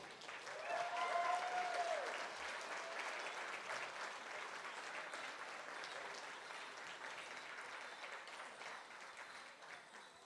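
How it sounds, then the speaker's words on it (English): A steady round of applause at a banquet for hall of fame inductees, a room full of people clapping at moderate distance, peaking early then holding evenly for about ten seconds with a faint tone over it. "Ladies and gentlemen, how about another round of applause?"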